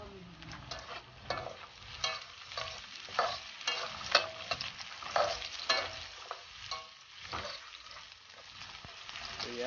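Garlic, onion and ginger sautéing in a pan for frog adobo, a continuous sizzle with frequent scraping stirs of a spatula rising and falling in waves.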